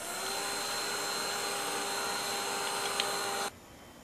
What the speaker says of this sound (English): I'm just going to use my heat gun, go over it one last time, quickly diffuse it